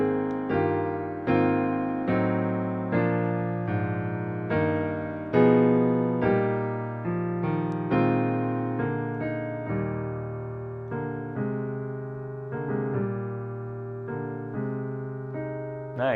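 Solo jazz piano ballad arrangement of O Come All Ye Faithful, closing four measures: a slow sequence of rich sustained chords struck in succession, close and steady, with no voices.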